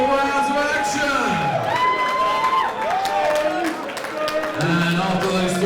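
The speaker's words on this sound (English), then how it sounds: "a big round of applause for both men after 3 hardball rounds of action" Crowd at a white collar boxing event in London cheering, whooping and applauding both fighters after three rounds, loud and continuous with many overlapping shouts and a speaking voice over the noise.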